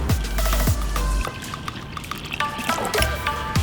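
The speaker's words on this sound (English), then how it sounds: "Now pour in some water." Water poured into a bowl of flour for Chinese steamed BBQ pork bun dough, a close, steady trickling pour running for several seconds with soft splashy bursts near the start and end.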